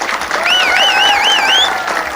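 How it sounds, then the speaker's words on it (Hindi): An audience claps throughout a Hindi comedy poetry gathering, with a steady burst of applause and shrill whistle-like tones weaving over it, loud and close with no talking. "तालियां बजाएं।"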